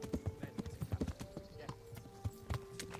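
Steady clip-clop of horse hooves trotting close by in Kingdom Come: Deliverance, rhythmic and crisp, with a voice talking faintly underneath.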